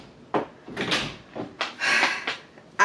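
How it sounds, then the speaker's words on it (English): A door is handled indoors in a home, with several short knocks, rattles and shuffling bumps in quick succession, fairly close, ending on a sharper thud. "Tyron, close the door"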